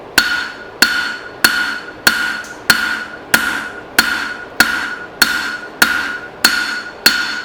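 A hammer strikes an old file blade on an anvil horn during forging, twelve sharp ringing blows falling at an even, steady rhythm, each ring decaying before the next hit, close and loud with no talking.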